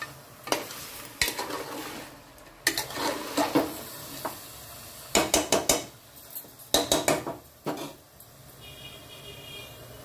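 Goat head curry fries in oil in a pan while a spoon stirs it, giving bursts of scraping and clinking against the metal over a low continuous sizzle.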